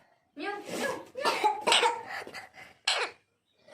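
A green parrot imitates a cough, giving several short harsh bursts across a few seconds at close range; a person talks nearby.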